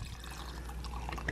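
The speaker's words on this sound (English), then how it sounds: "pour it into my frother" Oat milk pours from a carton into a milk frother, a short, continuous liquid splash at moderate volume with no voices.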